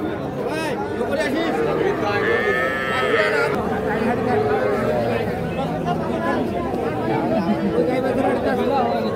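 Young bulls low and shuffle amid a steady din of crowd chatter at the busy Ambari cattle market.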